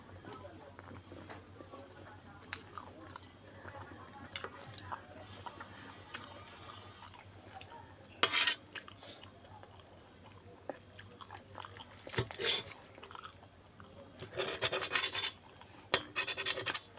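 Someone eats hot momo dumplings up close, with soft irregular chewing and biting sounds and a few louder moist smacks toward the end.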